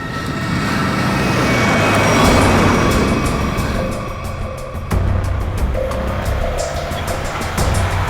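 A car drives along, a loud continuous engine and road roar that swells, dips briefly, then carries on with a few sharp knocks and clatters over it.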